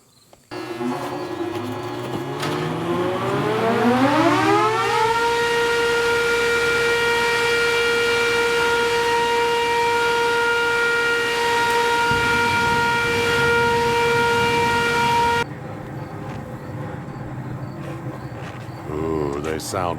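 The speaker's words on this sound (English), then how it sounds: "I would say the bearings are definitely bad on those motors" Electric motors with worn, failing bearings driving a grain auger on a farm at corn harvest rise in pitch over about five seconds into a loud, steady whine with strong tonal harmonics, running continuously and dropping off toward the end.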